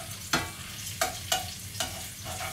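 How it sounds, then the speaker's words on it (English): A pan of chicken cooked in beer bubbles and sizzles steadily, with a few sharp stirring scrapes and taps at intervals, close and moderately loud, with no voices. "we keep the pan still bubbling away there"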